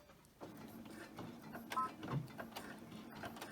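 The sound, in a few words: sewing machine doing a straight stitch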